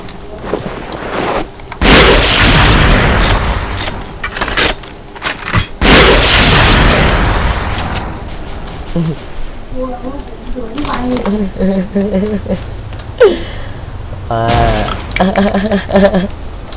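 Heavy bursts of gunfire in the video game Xshot, two long loud volleys followed by scattered shots, with people talking throughout.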